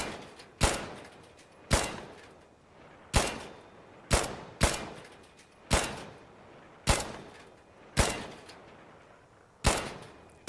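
Gunfire in the shooter game Insurgency Sandstorm: about nine loud, single shots spaced roughly a second apart, each with a sharp crack and a short decaying echo, and no talking.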